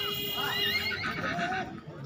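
A horse at a horse fair gives a shrill, wavering whinny over a busy crowd din and steady background hum, with faint hoof sounds and no clear speech.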